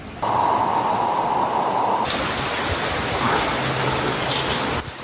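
Steady heavy rain pours during a flood in Bintulu, Malaysia, forming a loud, dense, unbroken wash of falling water with no voices.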